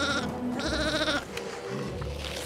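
Cartoon sheep stranded in snow on an island bleating, two wavering cries in a row close up, followed by softer shuffling and background sound.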